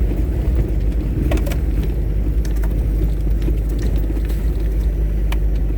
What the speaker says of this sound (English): just a little bit of tight driving through the bush